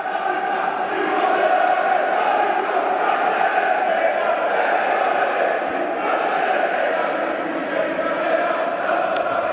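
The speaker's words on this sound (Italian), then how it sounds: "bella cornice di pubblico, anche con i tifosi del Napoli che si fanno sentire" Napoli futsal supporters in an indoor arena during a Serie A match against GG Team Wear Benevento, a continuous loud crowd roar with chanting and cheering, broadly steady throughout with occasional sharp court sounds.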